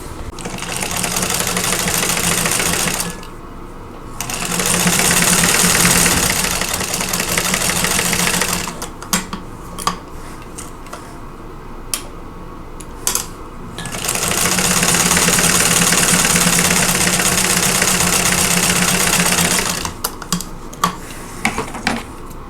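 Sewing machine stitching a quilt block in two long steady whirring runs, with fabric handling, clicks and taps in the pauses between.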